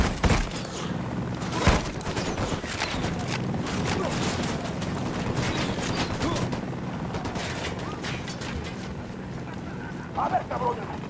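Gunfire from the tactical shooter video game Ghost Recon, a dense, sustained stretch of battle noise with a sharp shot near the start and scattered cracks over continuous rumble, heard alongside game voices.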